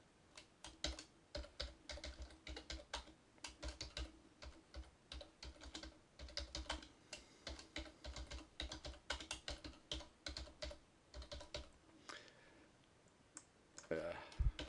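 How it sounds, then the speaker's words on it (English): Rapid, uneven keystrokes on a computer keyboard, close and fairly quiet, clattering in bursts with brief pauses while entering titles into web software. "Typing skills aren't the greatest."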